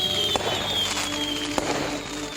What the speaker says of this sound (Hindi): अगले दिन राजू के घर के बाहर शाम को पटाखा जला रहे थे।